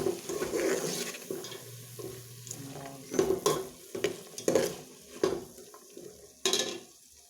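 Kangkong (water spinach) sautés in a pan with a close sizzle and repeated scraping stirs and clatters of the utensil, in irregular bursts against a low background hiss.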